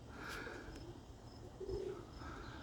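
Roller pigeons from a hen kit coo softly in a few low, murmuring calls over faint outdoor background noise.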